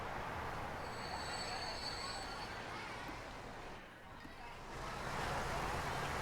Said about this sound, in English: now that train's probably going to go